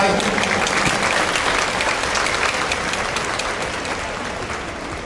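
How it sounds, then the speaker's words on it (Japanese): Loud, dense applause from a stadium crowd after a junior high school marching band performance at the Kumamoto Marching Festival, steady clapping that slowly fades a little toward the end. "もう一度拍手をお送りください。"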